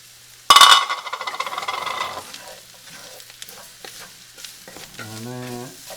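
Peppers hit a hot pan of roux with a sudden loud sizzle and clatter, then are stirred in with scraping and scattered knocks as the frying settles; a brief tonal squeak appears near the end.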